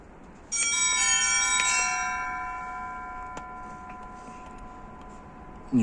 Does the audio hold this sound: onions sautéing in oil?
no